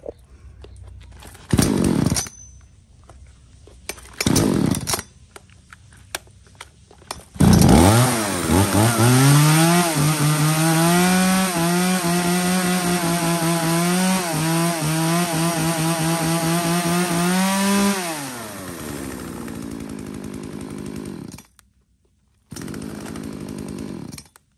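A used Japanese-market chainsaw is pull-started with a couple of brief sputters, then roars to life close by, revving up and down loudly for about ten seconds before dropping back and cutting off.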